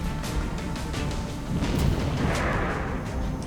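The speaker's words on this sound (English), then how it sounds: "Yes, keep grenading him." Grenades going off in a shooter video game, a run of rapid, dull booming blasts and crackling bursts that roll together over a constant noisy background of gunfire.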